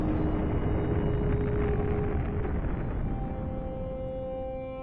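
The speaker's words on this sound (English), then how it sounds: "what we know as our universe began with a hot Big Bang." A loud, sustained rumbling roar meant as the hot Big Bang at the birth of the universe, a broad explosive wash that slowly fades over several seconds.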